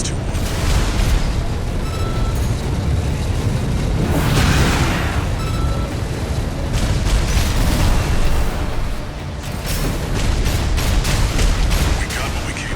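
Heavy explosions and booming blasts from Armored Core 6 combat, a dense continuous rumble with bursts swelling around four and nine seconds, loud throughout with no talk.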